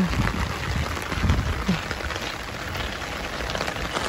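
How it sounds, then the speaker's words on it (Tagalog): Steady rain falls in Japan on a summer day, a dense continuous patter on surfaces with scattered louder drops, close and even throughout, with no voices. "Ayan, maulan."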